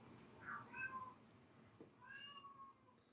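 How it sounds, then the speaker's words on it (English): A house cat meows twice in a quiet indoor room, first a short call near the start and then a longer drawn-out meow toward the end, close and clear with no talk. "Now my cat's meowing."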